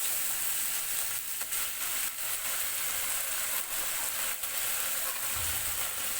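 A ginger, garlic and cumin paste goes into a pan of frying potatoes, onions and garlic, and a steady, close sizzle runs throughout with faint stirring scrapes.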